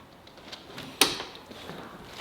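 A car door, in a garage setting for drift cars, shuts with a single sharp click-thud, faint overall against a quiet background.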